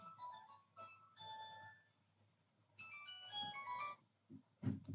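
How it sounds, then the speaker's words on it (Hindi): A phone rings with a melodic ringtone of bright, steady tones in two bursts. It sounds near but fairly quiet and is followed by a brief thump. "ये कौन फोन कर दिया"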